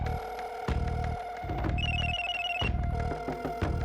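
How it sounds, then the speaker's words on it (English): A telephone ringtone rings in a dark, eerie setting, its repeating electronic tone phrases looping steadily and fairly loud with no voices. "Then she heard a ringing on the other line."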